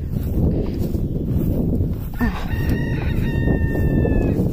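Cockerels crow at a farm-style animal enclosure, a thin, drawn-out call rising over steady loud background noise, with other animal sounds and outdoor bustle around it.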